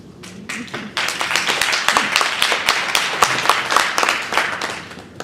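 A round of applause for panelists at a legislative panel forum: a steady, moderately loud patter of clapping from a modest crowd, lasting throughout.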